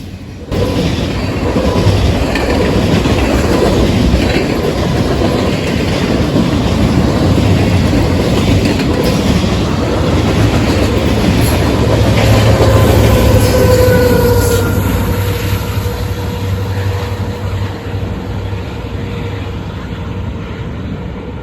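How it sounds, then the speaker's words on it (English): A long freight train with a rear distributed-power locomotive pushing in notch 8 rumbles steadily past close by, with a loud continuous roar, faint wheel squeals and a rising engine drone partway through. "an end train DPU for 178. pushing in notch 8 so 178 can maintain track speed"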